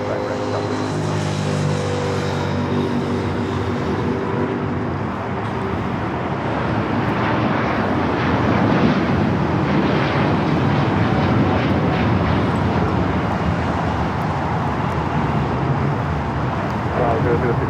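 Airliner rolling down runway 25 right at LAX, a loud, steady, broadband engine roar that builds slightly toward the middle and holds, with a faint voice underneath.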